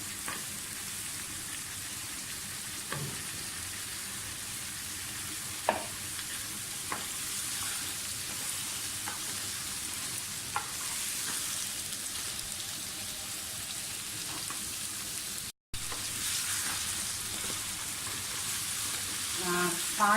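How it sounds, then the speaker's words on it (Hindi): Potatoes and onions frying in a pan, a continuous dense sizzle like steady rain, with occasional soft knocks and scrapes of stirring and a brief cut in the sound near the end. "प्याज के साथ हम थोड़े से आलू को भी फ्राई करेंगे"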